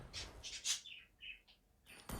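Bird chirps heard during a Mobile Legends ranked match, several short bright tweets in quick succession, fairly faint, followed by a burst of rustling noise.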